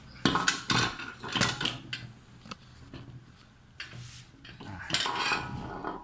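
A metal coil spring is worked onto a shock absorber, giving sharp metallic clinks, scrapes and taps in scattered bursts, close by and with no one talking.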